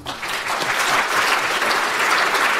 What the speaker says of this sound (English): And I hope you realise that is applause for you, Lucy, not for the fact that my planets actu